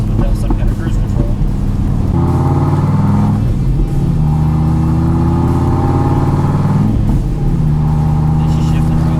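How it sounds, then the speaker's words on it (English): A Dodge Viper sports car drives steadily, its engine droning loudly inside the cabin, with the pitch dropping and rising again through smooth gear shifts. A voice talks over it. "She's shifting real smooth."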